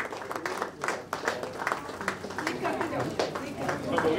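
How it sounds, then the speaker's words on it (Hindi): An audience at a Women's Day event applauds Mumbai police women, uneven clapping rising and falling beneath a voice talking over it. "तालियां बजाए जोरदार"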